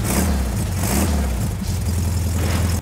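A street rod truck engine idles with a steady low rumble and a slight rev early on, heard close and continuous with no talk over it.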